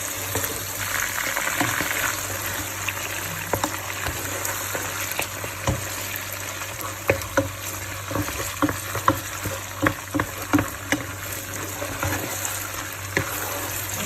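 Red onion cooks in a pan with a low, steady sizzle, with scattered small clicks and scrapes from stirring that grow more frequent midway through.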